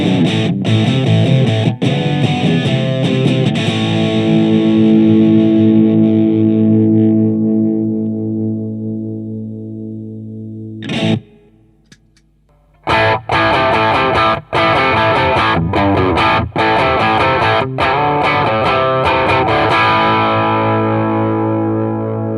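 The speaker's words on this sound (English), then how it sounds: "I've still got the Mustang on the British 80s mode with a bit of spring reverb, and there's also spring reverb on the Katana and that's still on the crunch mode" Electric guitar played through a Fender Mustang GT40 on British 80s mode and a Boss Katana 50 on crunch mode, both with spring reverb, distorted chords ringing out and decaying, a short pause, then chunky rhythmic strumming with abrupt stops.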